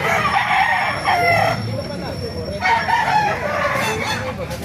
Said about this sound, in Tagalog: Lalaking white kelso nito.